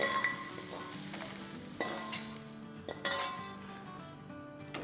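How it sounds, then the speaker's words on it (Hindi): Ginger, garlic and black pepper sautéing in oil in a pan, a steady sizzle broken by a few sharp clinks and scrapes of a utensil stirring against the metal, close and without talk. "बस इससे हमें 1 मिनट ही सौटे करना है"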